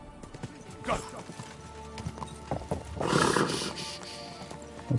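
A horse in the medieval role-playing game Kingdom Come: Deliverance 2, with hooves clip-clopping in an uneven rhythm and a brief whinny, all close and moderately loud, while a voice speaks softly over it.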